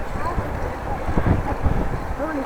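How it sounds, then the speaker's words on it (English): Cold winter wind buffets a microphone during a bike ride through Groningen, a constant loud, rushing roar that fills the whole stretch without letup. "it's 6 degrees and the wind, well, makes it feel a lot colder."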